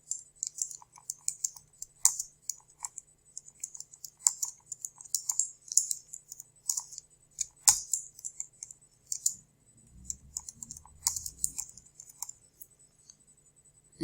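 Rapid, light clicking of keys on a computer keyboard while ad text is typed, close and continuous with brief pauses, over a quiet background with no speech.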